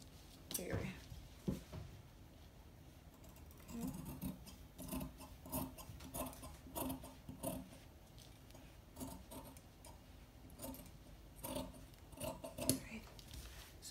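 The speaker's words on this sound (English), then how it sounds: "going to cut out the neck area. So this here, cut out the neck area, and the armhole" Scissors snip through Ankara print fabric while cutting out the neckline and armhole of a pencil dress, giving quiet, irregular crunching cuts spread over several seconds as someone talks throughout.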